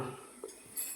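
A pressure cooker is set down on a gas stove while guar bean curry is being cooked. It makes a short, faint metallic clunk midway, followed by a light clink, in a quiet kitchen with no talking.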